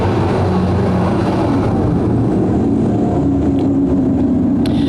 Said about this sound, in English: We go back to racing action.